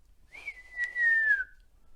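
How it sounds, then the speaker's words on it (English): A page in a staging of Romeo and Juliet whistles a single sustained note that holds steady, then slides slightly downward and fades, clear and close against quiet. "The page whistles."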